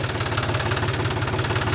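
A tractor engine runs close by with a steady, rapid knocking throb, like a diesel idling evenly without change in pace.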